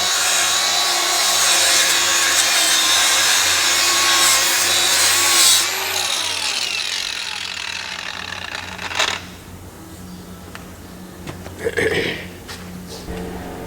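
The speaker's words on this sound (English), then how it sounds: "we've got the mating surface all sanded down" A power sander grinds loudly and steadily over a metal mating surface on farm chopping machinery for about five seconds, then winds down, followed by quieter scraping and a few knocks and rattles.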